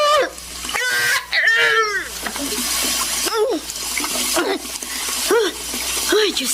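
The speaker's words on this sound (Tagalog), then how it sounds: "Bubuksan ko ang gripo para hindi nila ako marinig." A tap opened to run water, a steady broadband rush that continues for the whole stretch, with people talking over and around it.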